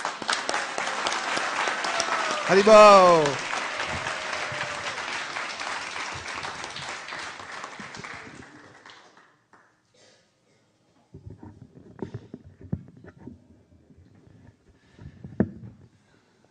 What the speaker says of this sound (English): help me in bringing him up here with a big round of applause